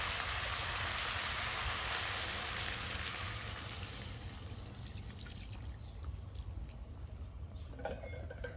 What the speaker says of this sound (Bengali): আলুগুলিকে আমি ভালো করে কষিয়ে নিয়েছি। দিয়ে দেবো পরিমাণ মতো জল।